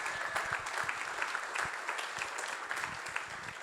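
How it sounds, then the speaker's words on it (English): Conference audience clapping at an agriculture event, a steady patter of many hands held at an even level throughout, moderately distant and without speech. "So if we can get a round of applause for Andrew Jason and the experience team"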